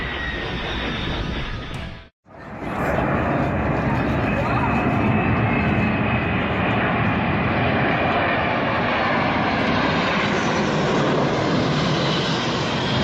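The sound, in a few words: military aircraft flying at an air show in Brisbane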